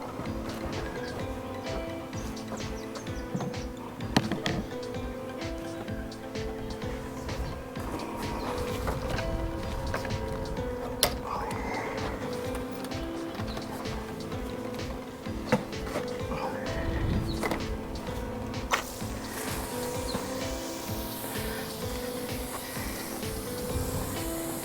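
A fire hose fed by a pump drawing from a dam sprays water with a continuous broad hiss over a droning pump engine, with occasional knocks along the way.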